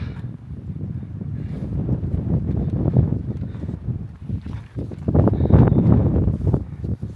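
Steady wind blowing outdoors near a fjord, a continuous low rushing roar with mic buffeting that swells louder toward the end, no speech.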